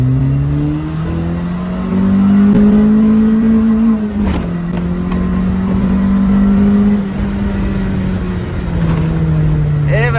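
A car engine pulls hard through second gear with a steady rising and falling drone, loud and close, a brief gear-shift dip near the middle, with occasional voices over it.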